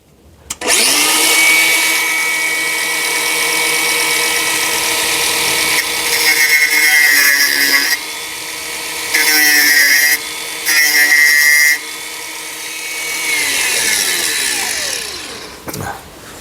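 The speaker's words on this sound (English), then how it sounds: "Got my guard off my grinder" An angle grinder with its guard removed cuts into a rusty Jaguar XKR car chassis, a loud sustained high-pitched whine with the pitch and load shifting as it bites into the metal, then spinning down at the end.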